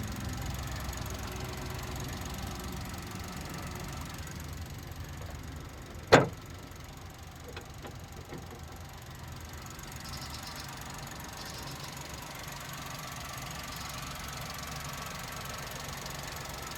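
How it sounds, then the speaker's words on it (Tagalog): The non-turbo engine of a Suzuki Hustler 4x4 minivan runs at a low, steady idle, a soft continuous rumble broken by a single sharp click partway through. "Ito ang function sa kanyang makina."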